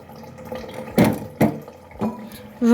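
Cabbage rinsed under a running kitchen tap, a close splashing flow with several sharp bursts of water as the leaves are moved about in the stream.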